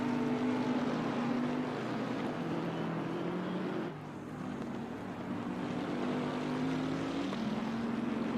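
A helicopter drones overhead at a wet Zandvoort race track, a steady low rotor and engine hum with a slight wavering pitch, dipping briefly in level midway before holding constant again.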